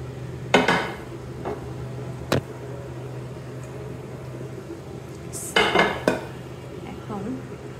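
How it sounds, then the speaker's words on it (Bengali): Rice pouring into a pot for chicken biryani, with a few sharp clinks and scraping clatters of utensils against the pot over a steady kitchen hum, sounding close and in short bursts. "এটার মধ্যে বাকি যে রাইসটা ছিল সেটা আমি ঢেলে দেব।"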